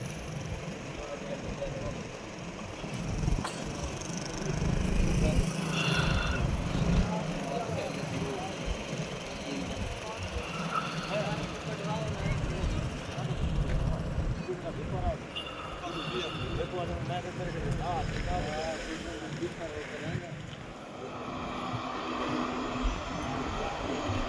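The caretaker chief minister's aircraft flies off at Jalalpur Pirwala, its engine droning steadily at moderate distance beneath voices talking nearby.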